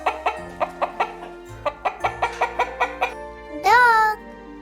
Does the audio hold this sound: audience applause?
no